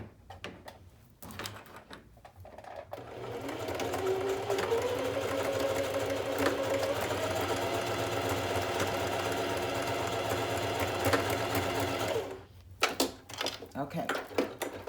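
A sewing machine runs steadily for several seconds, stitching a zigzag back and forth to secure a ribbon, its motor whirring at close range between quieter stretches at the start and end.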